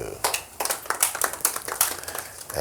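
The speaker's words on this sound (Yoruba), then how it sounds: "Ẹ jẹ́ ká pàtẹ́wọ́ fún Jésù." A church congregation claps for Jesus in steady, fairly quick rhythmic handclaps that continue under talking throughout.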